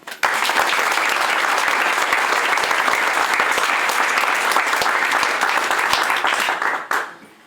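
An audience at a Munster cheese guild chapter ceremony applauds, dense sustained clapping from a crowd that holds steady for about seven seconds and then fades quickly, loud and close.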